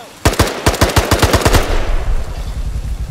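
Gunfire in a horror video game: a loud, close volley of rapid shots with an uneven rhythm that slows to scattered shots and then a lower rumbling tail.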